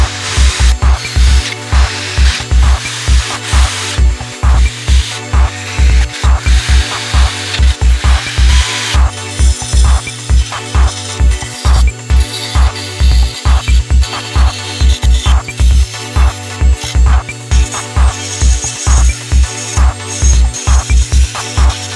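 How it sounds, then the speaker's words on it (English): A power tool cuts holes in a metal brake with loud, rapid, rhythmic grinding bursts repeating steadily at close range, without talk. "right now I'm going to be cutting some holes in this brake"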